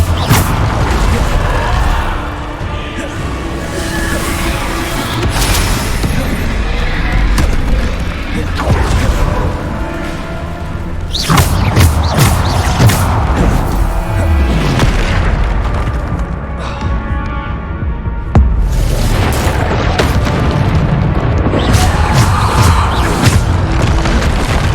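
Repeated Bombarda blasting spells in Hogwarts Legacy set off heavy booming explosions in bursts, loud and close, mixed with crashes and game effects.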